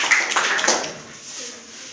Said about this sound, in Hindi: बहुत बढ़िया, ताली बजाइए।